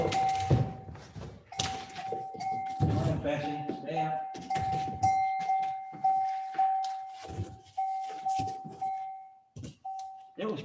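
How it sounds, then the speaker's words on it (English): During a Christmas pageant, a bell rings over and over, a clear sustained tone repeated through the scene, partly under people talking and the thumps of animals moving about. "And you need to hear the bell."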